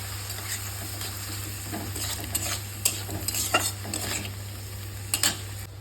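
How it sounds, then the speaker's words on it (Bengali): Prawns frying in oil with turmeric and salt, a steady close sizzle with intermittent spatula scrapes and stirring clinks against the pan. "তো মাছটা আমি ভাজা করে নিই।"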